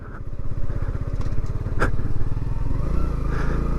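A 2023 Kawasaki Z125 motorcycle ridden slowly through a subdivision during its break-in period, heard from the rider's position as a steady, loud low engine putter with a slight rise in pitch near the end.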